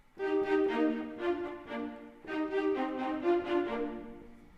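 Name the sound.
violas playing short notes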